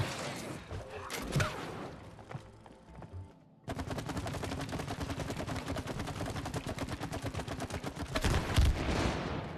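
Rapid automatic gunfire rattles in a video game while shooting at a target, a fast, steady stream of shots running several seconds after scattered earlier bursts, fairly close and loud.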